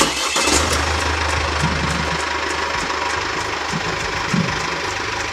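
Engine of a Marco Polo camper van cranks and catches with a short burst at the start, then settles into a steady mid-pitched idle with light knocking, heard close and without talking.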